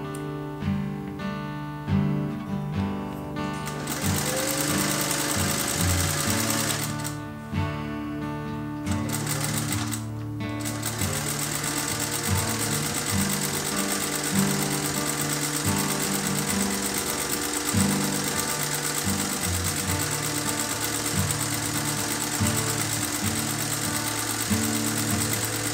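A sewing machine stitches tent mesh close to the edge of its tape in long steady runs, pausing briefly twice before resuming its loud, continuous mechanical whir.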